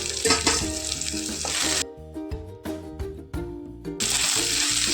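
Three green chillies frying in oil for mushroom gravy, a loud close sizzle that cuts out for a couple of seconds in the middle and then surges back.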